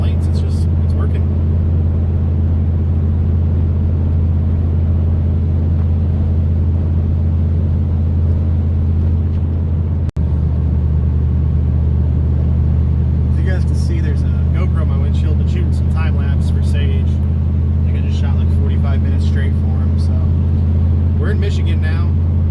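Silversides bus cruising down a Michigan highway, a steady loud low engine and road rumble droning throughout, with faint rattles and clicks in the cabin over the later half; a voice talks quietly under the noise.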